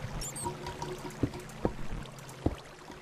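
Water flowing in the Minecraft video game, a steady low trickling wash that runs throughout, broken by a few sharp splashy clicks, fairly close and moderate in level with no voices.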